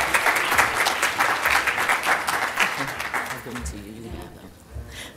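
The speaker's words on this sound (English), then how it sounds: "Just give her a round of applause" An audience breaks into steady, moderately loud applause for a congresswoman, with clapping that thins out near the end as a voice begins speaking.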